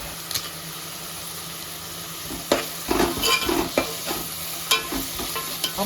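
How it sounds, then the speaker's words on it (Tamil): Small onions and curry leaves fry in a pan for a Tamil prawn kuzhambu, giving a soft steady sizzle broken by a handful of sharp scraping stirs and spatula knocks, near and alone. "இப்போ வெங்காயம் நல்லா வதங்கிட்டு இருக்குது"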